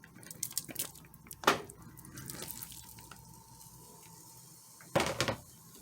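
Drained ground beef going into pasta sauce for lasagna, heard as soft wet plops and a scraping spoon against the pan over a faint background hum, with two louder clatters, close by.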